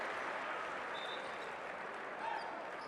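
Crowd noise from spectators at a FIBA Basketball World Cup 2019 Americas qualifier game between Uruguay and Puerto Rico, a steady broad roar of cheering and clapping throughout, with a slight swell near the end.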